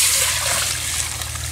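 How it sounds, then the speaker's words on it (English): Water is poured into a Dutch oven of sautéed onions, a short, soft, steady trickle and splash lasting under two seconds. "Next, I'm going to add 4 cups of water"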